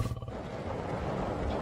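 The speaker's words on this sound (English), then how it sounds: "This lion is aggressive." An aggressive lion kept in Punjab growls and roars in a steady, rumbling stretch, loud and close, with no clear pauses and no talk over it.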